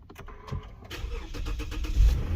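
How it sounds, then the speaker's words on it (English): A 2016 Lexus GS with 33,000 miles cranks and fires up, a brief starter whir followed by the engine catching and settling into a steady, fairly loud idle close by. "I'm trying to start the car now."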